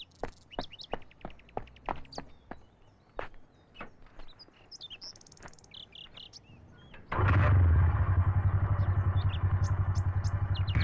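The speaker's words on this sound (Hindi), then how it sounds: "जल्दी जाके बाइक लेके आओ" A motorcycle engine starts up and idles with a loud, steady rumbling roar close by, preceded by sharp chirping bird calls and clicks outdoors.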